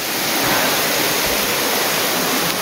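Small waterfall at Ananthagiri Hills near Hyderabad, a steady, dense rush of falling water that holds even and unbroken throughout with no voices.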